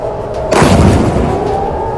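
An Iranian missile strikes Israel at night, landing as one loud, deep boom after a half-second lull and leaving a rumbling, slowly fading tail.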